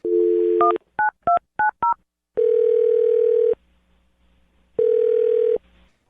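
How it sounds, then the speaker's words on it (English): A telephone keypad dials a number: a steady dial tone, then six quick tone beeps in a row, followed by two long ringback tones separated by a pause, loud and close with no talking. "I'm going to dial her phone number right now"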